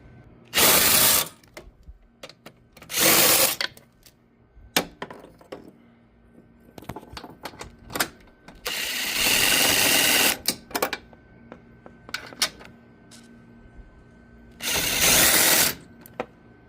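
Bolts being removed from a 2019-2025 Audi A6 C8 with a power tool, heard as three loud whirring bursts of a couple of seconds each, spread apart, with scattered clicks and light mechanical handling between them.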